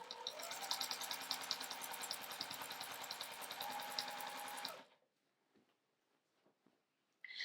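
A domestic sewing machine quilting straight along a quilt seam, whirring steadily and close for about five seconds before stopping, followed by near silence and then a short burst of sound at the very end.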